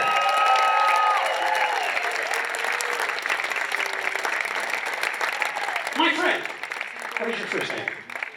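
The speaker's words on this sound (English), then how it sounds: "Give everybody a round of applause here." An audience at an awards event applauds in a sustained, dense wash of clapping, with a voice speaking over it near the end as it tapers off.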